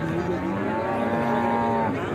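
Calves lowing at a Wednesday calf market in Punganur, a drawn-out harmonic moo rising over a busy background of crowd noise and distant talk.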